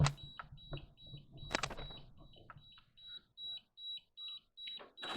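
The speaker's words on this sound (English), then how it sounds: "Don't worry about these alarms because they're not set to anything" Unset alarms on a Nexgrill smoker beep electronically during seasoning. A few clicks and clatter come first, then a steady run of short, evenly spaced beeps that sound moderately close and fairly faint.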